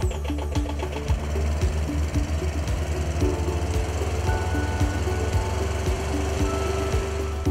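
The diesel engine of a towable BurnBoss air curtain wood waste burner runs steadily outdoors, a loud, even mechanical chugging with a regular rhythmic knock throughout, no voices present.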